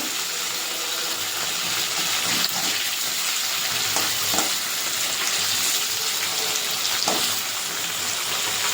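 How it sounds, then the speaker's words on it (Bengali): Paneer pieces fry in a pan of hot oil, producing a loud continuous sizzle up close, with occasional stirring and turning sounds throughout and no voices. "পনিরটা একটু এপিট ওপিট করে ভেজে নেব।"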